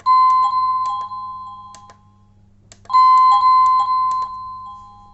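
A wireless doorbell set to its lowest volume sounds two bright electronic chime melodies, each a short run of ringing tones that fades out before the second begins, clear and close.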